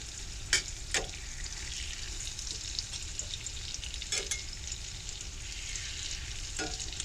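Apples fry in a cast iron pan on a Coleman stove inside a greenhouse, a soft, steady sizzle punctuated by a handful of sharp utensil scrapes and taps.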